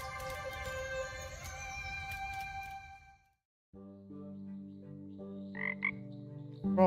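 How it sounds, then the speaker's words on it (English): Frogs croak in Kamairu, a cozy frog-breeding farming and crafting video game. Tonal, game-like croaks and chimes play over soft background music, with a brief silence midway and brighter croaks near the end. "Frogs."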